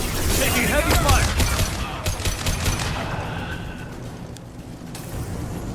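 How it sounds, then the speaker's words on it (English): Gunfire in the video game Mass Effect 2 as Blue Suns mercenaries and Vorcha shoot, with dense rapid shots crackling loudly early on, then thinning out and fading toward the end amid background game noise. "Blue Suns and Vorcha are shooting anything that moves"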